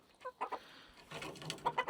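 Chickens and a rooster cluck during spring feeding, several short, close clucks in quick bursts, alone without talking.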